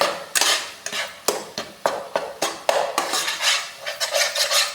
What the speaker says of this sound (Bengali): মিলাতে হবে খুব তাড়াতাড়ি নাড়তে হবে